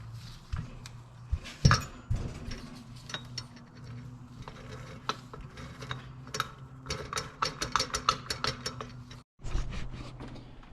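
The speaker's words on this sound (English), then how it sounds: "we're gonna drive that in really quick. I'm gonna use an impact." Impact wrench driving in the bottom fork bolt on a Honda Shadow Phantom motorcycle during a fork seal replacement, with repeated short bursts of rapid hammering and clattering in a workshop, close and fairly loud, with no talk.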